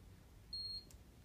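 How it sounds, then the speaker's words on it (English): A Venturi negative pressure wound therapy pump gives one short, clear electronic beep as it switches to continuous suction, quiet over a faint low background hum. "We hear our beep, and we're now on continuous."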